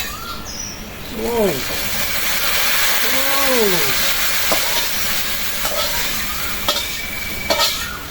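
Food sizzles steadily in hot oil in a pan, with occasional stirring clinks and a few bird calls in the background, the frying continuous and fairly loud throughout.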